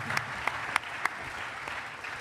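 Brief, fairly faint applause from an audience at a conference debate, a few scattered distinct claps standing out over a soft background murmur.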